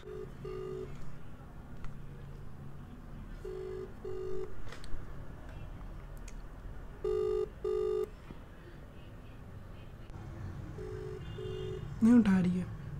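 An outgoing mobile phone call ringing while waiting for an answer, repeated paired electronic ring tones spaced a few seconds apart, faint and steady, with a voice and some handling noise near the end.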